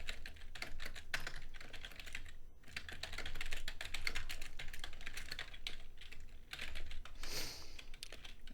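Steady, rapid keystrokes on a computer keyboard while code is typed for a PHP and MySQL registration form, close and continuous with a brief pause midway and no talking.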